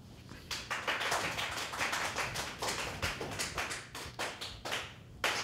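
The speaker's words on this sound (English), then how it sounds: "Reverse slow clap." One person claps by hand in a home kitchen during cooking, a run of sharp, close claps that bunch together quickly and then spread out and slow toward the end.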